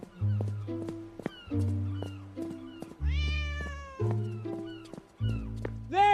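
A cat meows repeatedly in a harbour setting, five or six drawn-out, rising-and-falling cries in quick succession, close and clear, with an occasional voice mixed in.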